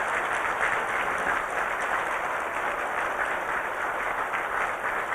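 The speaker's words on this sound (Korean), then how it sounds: "한번 크게 한번 박수해 드리세요." Mission staff and missionaries receive sustained applause from a church congregation, dense steady clapping from a large crowd filling the room at an even level for the whole span.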